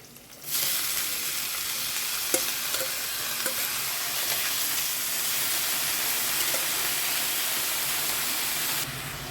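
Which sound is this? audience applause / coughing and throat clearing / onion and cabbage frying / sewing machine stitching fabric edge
onion and cabbage frying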